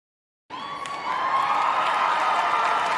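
A crowd bursts into cheering and applause after a brief silence, a dense, sustained roar of clapping and shouting that swells slightly and holds steady.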